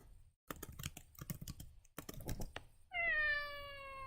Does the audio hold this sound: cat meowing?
yes